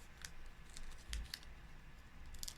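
Scissors snipping through organdie fabric, a few short crisp cuts spaced across a quiet background, close and fairly soft.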